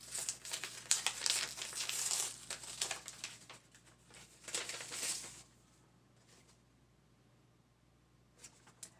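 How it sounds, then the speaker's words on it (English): A paper envelope is torn open and handled, giving bursts of crinkling and tearing over the first five seconds, then quiet with a brief rustle near the end, close and fairly soft. "let's just get into the envelope and see what the prompt says"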